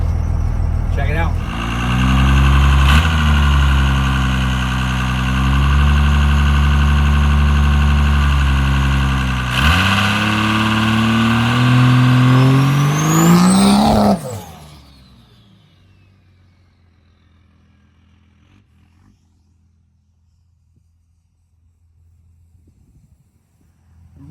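Cummins diesel burnout truck engine running hard and revving, brakes straining, loud and close for about fourteen seconds with a couple of pitch rises, then cutting off to near silence and a low hum.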